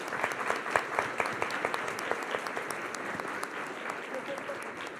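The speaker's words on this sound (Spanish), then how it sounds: "les pido que por favor le den un aplauso al maestro Ovidio" Audience applause for maestro Ovidio at a book launch, steady clapping from a crowd throughout with individual claps standing out, moderately loud and continuous.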